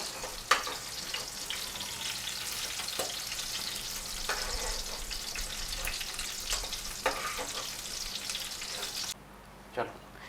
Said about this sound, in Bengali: এবার দেখুন বেগুনগুলো ভাজা হয়ে এসছে, লাল লাল হয়ে গেছে।